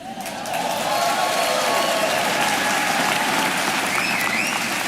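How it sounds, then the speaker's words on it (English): A large audience clapping together in a steady, sustained burst, loud and close, with faint voices mixed into the applause. "How did you know at which rhythm to clap?"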